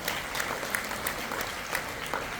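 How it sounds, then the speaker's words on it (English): Steady applause from an audience at a Nasdaq bell ringing ceremony and capital market summit, a continuous dense clatter of clapping holding at an even level without pause throughout. "A big round of applause to yourself."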